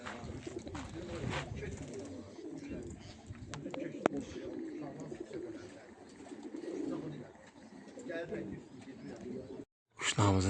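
Racing pigeons coo softly amid ambient outdoor noise as they come in to land at a loft during a race, with people talking throughout over the faint birds.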